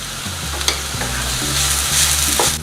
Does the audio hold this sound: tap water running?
no